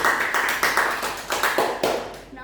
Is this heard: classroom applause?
yes